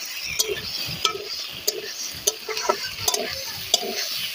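Chunks of elephant foot yam and potato frying in a pan with green chillies, sizzling steadily while a spoon scrapes and stirs in short, repeated clinks, close and with no one talking.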